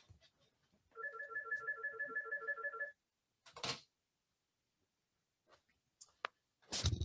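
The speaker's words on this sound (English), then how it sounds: "Uh-oh, my phone's ringing." An old landline telephone rings in a clear electronic trill for about two seconds at moderate volume, followed by a few faint clicks and brief noises.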